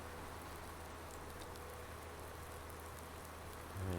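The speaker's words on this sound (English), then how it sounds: "I think it's been raining most of the night too" Steady rain from the Farming Simulator 19 video game, a continuous broadband hiss of drops on surfaces holding at an even level throughout, with a slightly louder swell right at the end.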